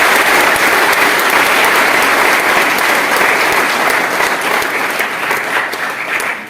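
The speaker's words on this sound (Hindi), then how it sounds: "तालियों की गड़गड़ाहट से हम धन्यवाद अर्पित करते हैं" Thunderous, dense applause from a large crowd honours Olympic medalist Sarabjot Singh at an Indian Postal Department event, loud and sustained before easing slightly at the end.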